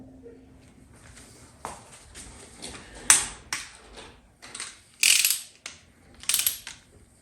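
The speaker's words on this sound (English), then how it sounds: "We'll start torquing this one down." Torque wrench tightening cylinder head bolts on a Chevy 350 small-block being fitted with a new top end and ProMaxx heads, giving a few separate metallic clicks and ratcheting bursts spaced over several seconds, fairly close and with no talk.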